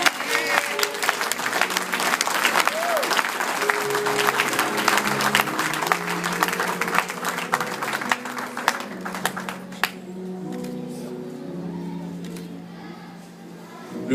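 A church congregation applauds and cheers for the king during a worship service, steady dense clapping with crowd voices, while music plays underneath and the applause tapers near the end.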